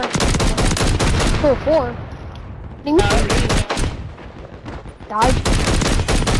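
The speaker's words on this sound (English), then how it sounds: "Someone's shooting at you." Call of Duty gunfire rattles in rapid bursts of shots, loud and close, mixed in and around excited players' voices talking over the game.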